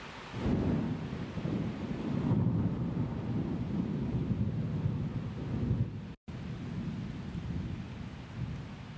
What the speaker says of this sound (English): This third rain recording here is more in the low frequencies, the low mids.